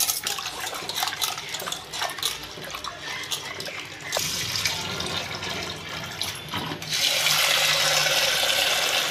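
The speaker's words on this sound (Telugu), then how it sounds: "కప్పుడు పప్పు కుక్కర్లో వేసుకొని వాష్ చేసుకుందాం." Running water splashes and gushes steadily as lentils are washed in a pressure cooker, with grainy swishing and occasional clinks of the metal vessel, growing louder toward the end.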